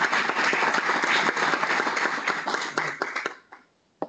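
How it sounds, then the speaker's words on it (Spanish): An audience at a technical workshop on pecan pruning applauds Mario for Forest Engineer's Day, a lively burst of clapping that tapers off quickly, leaving a few last claps. "pido un aplauso para Mario."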